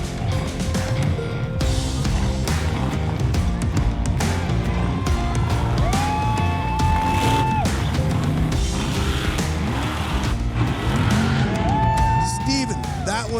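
An off-road race vehicle crawling over the rock course at a Mountain Havoc event, its engine revving and surging continuously up close, with rising and falling whines and clanks, while people talk and cheer over it.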